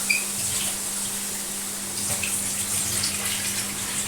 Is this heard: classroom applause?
no